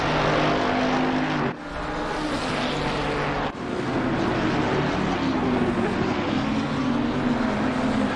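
Race car engine from a Toga Motorsport race at Valencia, a loud sustained roar with shifting pitch and two brief drops like gear changes.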